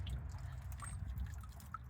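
Water drips and trickles as it drains from a Casita travel trailer hot water heater into a container, a quiet run of small irregular drops over a low rumbling background.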